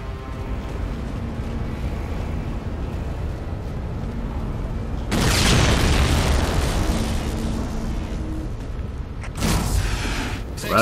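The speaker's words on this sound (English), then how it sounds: "Explosion was a little half-assed." A Halo 4 video game explosion bursts loudly midway as a broad roaring boom that decays over a few seconds, followed later by a second shorter blast, over a constant low in-game rumble.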